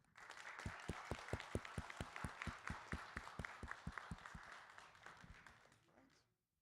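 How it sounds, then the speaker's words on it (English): Clapping from a small audience at a school board meeting. The claps fall in a quick, fairly even rhythm at moderate volume and fade out after about six seconds, ending in quiet. "So round of applause for them."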